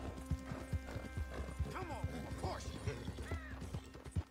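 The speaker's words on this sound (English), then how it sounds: "I will ride carefully with my horse as well." Steady clip-clop of horse hooves at a walking pace in a video game, with a horse whinnying briefly in the middle, fairly quiet and evenly rhythmic.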